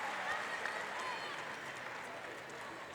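Tennis crowd applauding after Rafael Nadal holds serve for 5-all in the final set against Lucas Pouille at the 2016 US Open; steady, distant clapping fills the arena with no break.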